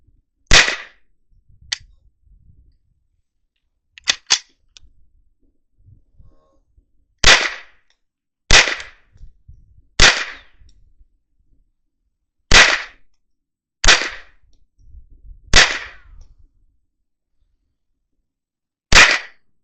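A Ruger 10/22 rifle fired outdoors with old Winchester ammunition: about nine sharp, loud cracks spaced irregularly a second or two apart, plus a couple of fainter clicks, with quiet pauses between shots and no talking.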